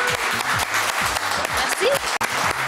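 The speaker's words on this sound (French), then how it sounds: "Bravo, allez, applaudissements." Applause from a television talent show studio audience, steady clapping under a voice that cheers over it.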